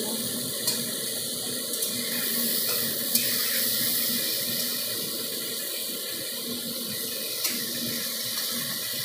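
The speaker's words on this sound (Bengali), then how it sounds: "ওর মধ্যে জল দিয়ে দেবো" Water pours steadily into a pan while rohu fish curry with potatoes cooks, a continuous close hiss and splash lasting around nine seconds with faint clinks, no talking.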